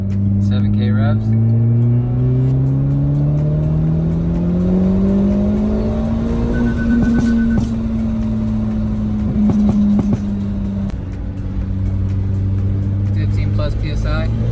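The engine of a tuned Hyundai Veloster N revs up and down in smooth rising and falling sweeps, close and loud, over a steady idle drone.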